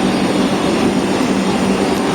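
A Vande Bharat Express train, the 22961 service on the Ahmedabad to Mumbai Central route, pulls into Surat station with a loud, steady rumble and hum that holds evenly throughout.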